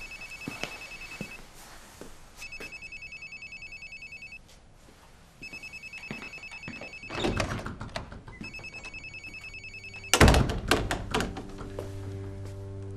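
An office telephone rings in repeated electronic bursts, three or four rings separated by short pauses, followed by thumps and a sharp bang with a low hum toward the end, set in a Korean TV drama.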